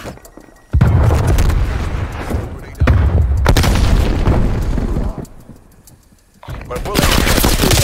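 Gunfire and a grenade explosion in Call of Duty Black Ops Cold War multiplayer on PS4 Pro, loud dense bursts of shots and booms in several waves with a brief lull, while voices call out over the fighting.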